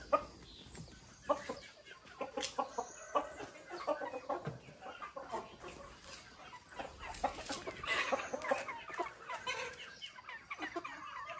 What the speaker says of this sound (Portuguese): Aqui as galinhas já esperando o milho ali